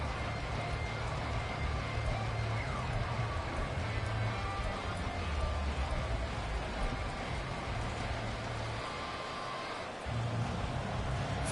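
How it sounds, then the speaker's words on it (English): Steady rain hisses throughout a rainy football match in Madden 24, a dense wash of noise beneath low crowd rumble and game sounds that continues without a break. "The rain set to continue as we are underway in the 2nd half"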